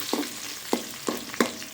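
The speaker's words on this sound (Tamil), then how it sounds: "வெங்காயத்தை கொஞ்சம் வதக்கிக்கலாம்." Onions sauté in hot oil for a Tamil-style sweet cluster bean stir-fry, giving a steady close sizzle punctuated by four sharp stirring scrapes of a spoon in the pan.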